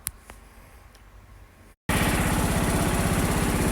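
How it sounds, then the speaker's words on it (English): A loader tractor engine fires up after a brief silence and settles into a loud, steady, close idle with a rough, pulsing mechanical drone. "we got the loader tractor started up and warming"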